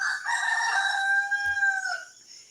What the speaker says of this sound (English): I don't know which rooster is crowing right now.